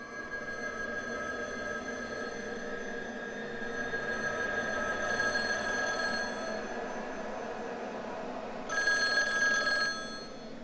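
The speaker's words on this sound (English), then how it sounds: "The phone is ringing." Telephone ringing inside the horror ghost-hunting video game The Lost Crown, steady electronic ring tones repeating over a constant humming background, louder bursts near the end, no talking.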